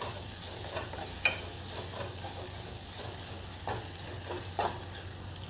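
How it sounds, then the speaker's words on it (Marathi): Ginger garlic paste sautéing in hot oil in a pan for an egg curry tempering, a low steady sizzle punctuated by scattered scrapes and taps of a spoon stirring, no speech. "छान परतून घेऊया."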